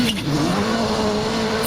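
Rally car at the Royal Rally of Scandinavia 2025 flying past under hard acceleration, a loud sustained engine roar with a rising tone and a brief burst of gravel or tyre noise at the start and end.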